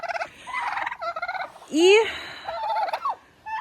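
Turkeys in a chicken coop gobble loudly and close by in several rapid, warbling bursts, with one higher rising call in the middle.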